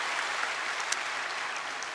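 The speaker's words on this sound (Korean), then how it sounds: "박수로 여러분들 축복해 주시기 바랍니다" Brief, steady applause from a church congregation during a Sunday service, blessing new catechumens with an even, dense patter of many hands clapping at moderate volume.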